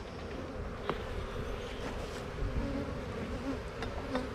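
Calm honey bee colony in an opened hive: a dense, steady buzzing drone from many bees close by, with brief louder passes of individual bees, and no voices.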